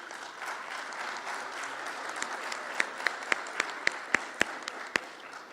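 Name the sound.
audience applause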